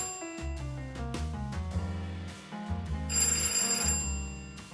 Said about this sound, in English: Something is ringing in your office.